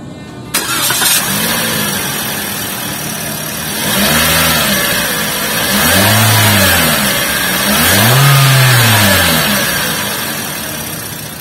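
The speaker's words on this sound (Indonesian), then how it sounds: "kita juga pengen denger dong suara mesinnya kayak apa" A Daihatsu Xenia 1.3 R engine cranks and catches, then settles into an idle broken by three rising and falling revs, each a little stronger, close by.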